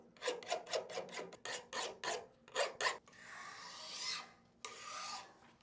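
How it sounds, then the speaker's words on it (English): Someone files the edges of the beds of a Laguna JX8 jointer. Close, rhythmic metal-on-metal rasping strokes come first, then a longer continuous scraping pass, with no talking. "just file the edges, much like you would do to the bottom of a hand plane, to make sure that it doesn't leave tracks"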